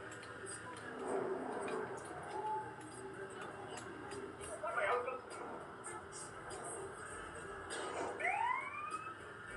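A police siren sounds in the video game GTA San Andreas, with short, faint rising wails that come and go over low game noise.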